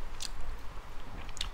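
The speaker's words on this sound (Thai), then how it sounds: "ห่อผักกรุบกรึบ" Close, wet chewing of crunchy vegetable wraps with spicy seafood salad, with two sharp crisp crunches about a second apart over soft, steady mouth sounds.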